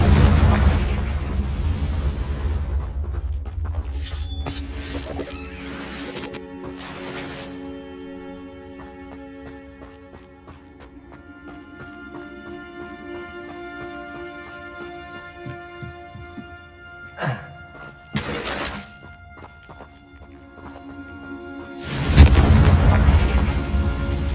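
Blasts of the Confringo explosion spell in Hogwarts Legacy, a few sharp loud bursts spread over a long stretch of tonal game music.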